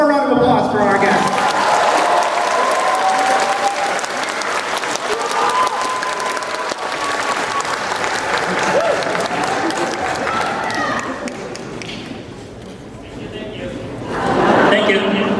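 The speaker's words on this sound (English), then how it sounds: "One more round of applause for our guests." An audience at a Sailor Moon 30th anniversary celebration gives its guests a long round of loud applause with some cheering. The clapping eases off near the end and then swells again briefly.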